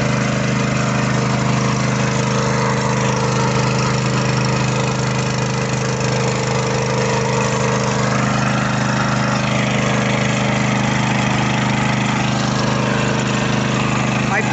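A petrol water pump for irrigation, powered by a small motorcycle engine, drones loudly and continuously at a steady idle, with people talking faintly underneath throughout.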